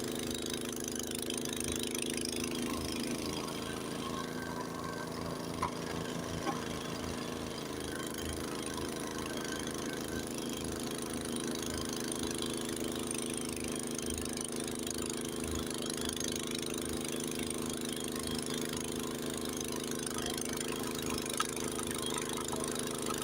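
A Honda snowblower engine drones steadily and fairly quietly through a Lake Tahoe snowstorm, holding an even, slightly throbbing hum for over twenty seconds with a couple of faint knocks.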